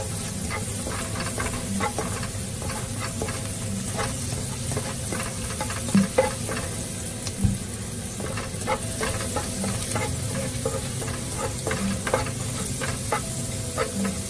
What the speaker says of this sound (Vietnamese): Đợi tỏi vàng thì mình sẽ cho một ít hành vào, đảo đều lên cho nó thơm các bạn.